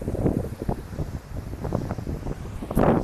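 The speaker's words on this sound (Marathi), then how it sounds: "वारा देखील आहे" Wind buffeting the microphone on the Konkan seashore at Ganpatipule, a loud low rumble that gusts unevenly and swells near the end.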